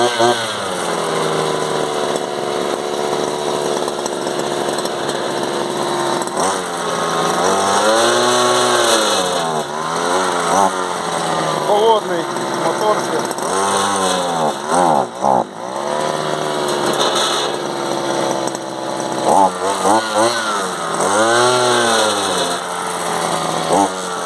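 A small two-stroke brush cutter trimmer engine mounted on a homemade vehicle starts up and runs close by, its buzzing pitch rising and falling through repeated throttle revs and drops.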